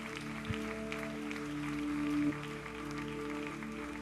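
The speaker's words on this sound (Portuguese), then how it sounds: "você pode aplaudir a Jesus." A church congregation applauding, a soft, steady spread of distant clapping beneath sustained organ-like tones, swelling slightly midway.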